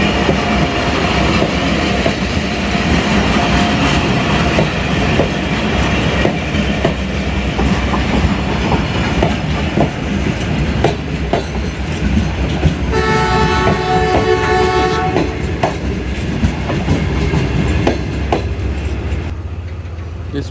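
The Shalimar Express runs on the Lahore to Sukkur line, a loud steady rumble with clickety-clack from the wheels and a horn toot partway through, continuing throughout.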